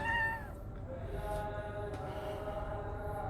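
A pet cat with a lingering cold meows, a clear drawn-out call at the start followed by fainter, softer mews over steady background noise, with no talking.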